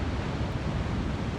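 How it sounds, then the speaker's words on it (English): Ocean waves roar steadily along the Portugal coast, a loud, continuous broadband wash of surf with wind buffeting the microphone and no clear breaks between swells. "I'm happy to be surrounded by all the noise of the waves"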